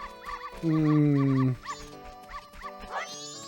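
A video game dog from the Majora's Mask dog race barks in short repeated yips over bright game music, one long sustained tone near the start and jingles later on.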